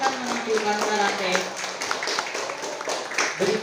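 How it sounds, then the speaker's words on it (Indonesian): An audience at a school talent show claps for a student's karate performance. The clapping is scattered and moderately close, mixed with voices and tonal background sounds. "Beri tepuk tangannya."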